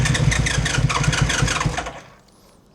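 Electric starter cranking a 1980 Honda CBX1000 six-cylinder motorcycle engine, a fast pulsing churn for about two seconds that stops without catching.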